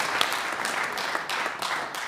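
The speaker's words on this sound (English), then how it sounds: "So please give applause to that." An audience at a New York evening event with a band claps in steady, dense applause that carries on without a break.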